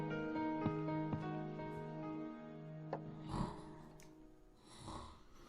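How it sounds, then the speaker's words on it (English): A woman's long, droning snore with a nasal, tonal quality in the PC game Gabriel Knight 3, followed by a couple of softer snorting breaths, quiet and close. "Do we get to hear some snoring this time?"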